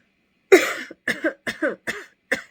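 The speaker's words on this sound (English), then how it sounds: "now I have that stupid cough that I do not like" A series of coughs: one harsh cough followed by four shorter, hacking coughs in an uneven rhythm, close and fairly loud, with no talking.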